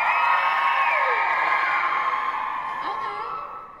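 A crowd of children and adults at an outdoor spring arts festival lets out a loud cheer of high shouts and screams that holds strong, then tapers off toward the end.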